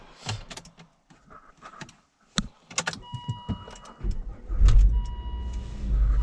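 Volvo V70 petrol car on a test drive after a fuel filter change, with scattered clicks and thumps in the cabin, a brief electric whirr, and an engine rumble that builds toward the end.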